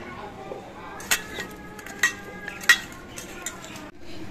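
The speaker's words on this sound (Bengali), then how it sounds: "এবার এই মাছগুলোর মধ্যে আমি নুন আর হলুদ মাখিয়ে নিচ্ছি।" Salt and turmeric being worked by hand into small pieces of hilsa fish in a bowl: a few soft clinks and wet squelches at irregular intervals over a low, steady room hum.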